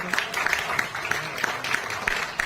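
Audience clapping at an Anuvrat foundation day gathering, with steady applause of moderate loudness and scattered sharper claps throughout.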